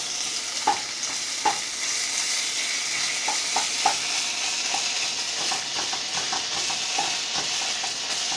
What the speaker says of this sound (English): I'm gonna break that up. What you want to do is break that up real good.